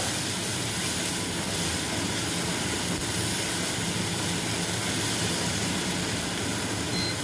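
A gas stove burner roars loudly and steadily with heavy gas flow, a constant broadband rush with no talk, while shrimp fry for an egg capsicum masala.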